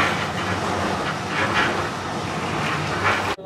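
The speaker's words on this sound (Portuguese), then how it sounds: "E viemos pegar o trem." A train runs steadily with a continuous loud rumble and faint rhythmic clatter, heard from close by and cutting off abruptly at the end.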